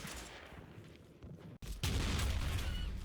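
Small-arms fire from the Combat Mission Fortress Italy video game: a dense, continuous rattle of shots that briefly cuts out, then returns louder and fuller for the last second or so.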